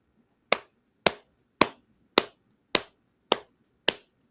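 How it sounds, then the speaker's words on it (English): Seven single hand claps, evenly spaced about half a second apart, crisp and close in an otherwise quiet room: a deliberate slow clap. "Slow clap because you deserve it."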